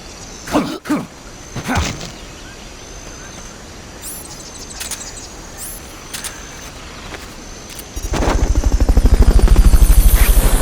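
After a few thumps and quiet chirps, a helicopter's rotor in the video game Metal Gear Solid: Peace Walker swells in, its rapid rhythmic chopping growing loud and close.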